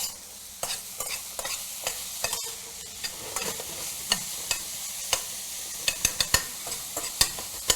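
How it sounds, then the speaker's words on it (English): Vegetables sautéing in a pan until translucent, a soft steady sizzle broken by frequent sharp clicks and taps of a utensil stirring against the pan, close and without talk. "So you want to kind of saute these so that they become translucent and kind of start to brown even a little bit"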